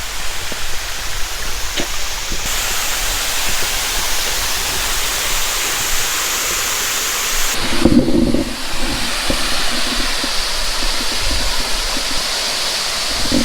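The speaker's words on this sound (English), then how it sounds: "This is how quick it is to get to this waterfall. It's right behind me" Reedy Branch Falls on Long Creek, South Carolina, pours as a steady, close, loud broadband rush of falling water, unbroken throughout, with a few faint knocks and handling noises and a brief low thump midway.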